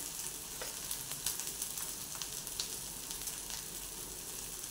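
Ground masala paste with turmeric and coriander powder sizzles steadily as it is sautéed in a pan for chana masala, a continuous bright frying hiss with small crackles and stirring ticks, close and alone.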